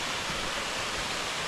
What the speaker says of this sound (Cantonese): 呢度一條橋好似個瀑布咁